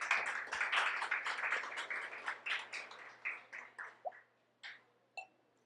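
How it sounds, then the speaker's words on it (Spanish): Church congregation applauding in praise, a dense burst of claps that thins out into a few scattered, separate claps before stopping. "démosle un fuerte aplauso al Señor por ellas"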